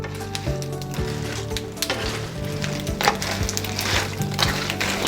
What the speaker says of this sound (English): we're just gonna give this a mix and let everything kind of saute together